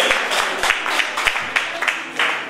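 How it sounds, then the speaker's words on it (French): An audience at a Malian women's International Women's Day gathering in France claps in steady applause, a dense patter of hands from a crowd close by with faint voices mixed in. "On les applaudit."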